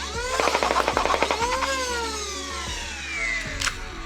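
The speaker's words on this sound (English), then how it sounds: "It contains a total of 4 flywheels and shoots short darts. It utilizes the popular Talon mags and fires at an incredible rate." A 3D-printed Nerf Woozi blaster with four flywheels and Talon magazines whirs up as its flywheels spin, then fires a rapid, close burst of short darts with a quick rattling rhythm, followed by the motor whine winding down.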